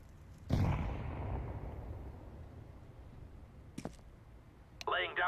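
A single close, booming grenade blast in Counter-Strike sets off a low rumble that fades slowly, followed by a couple of sharp clicks and then a voice speaking.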